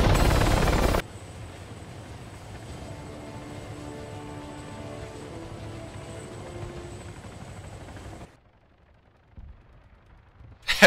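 An airplane in the Arma 3 video game drones steadily for about eight seconds after a loud opening burst, then cuts out to near silence before a brief sound at the end.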